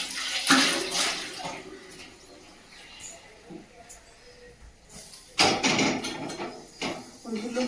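Water splashes and gushes in two loud bursts while food is rinsed in a kitchen, with quieter handling sounds and faint voices between them.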